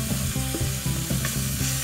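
Beef stir-frying in a hot pan with a splash of alcohol for black pepper beef, a loud continuous sizzle broken by rhythmic scraping strokes of stirring, close and without talk.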